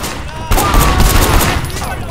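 A sudden loud burst of rapid gunfire erupts in the action game Sleeping Dogs after a brief quieter lead-in, sustained close shots crackling for over a second.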